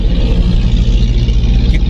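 Steady low road rumble and engine hum fill the cabin of a 2016 Honda Civic while driving, a constant broadband drone with no talk.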